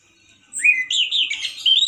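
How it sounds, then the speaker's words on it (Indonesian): A male orange-headed thrush sings alone at close range, loud and harsh, with a run of bright, rising and warbling phrases after a short quiet start. "Kali ini akan saya tampilkan pendatang baru lagi ya dari channel burung kicauan, yaitu burung jenis anis merah"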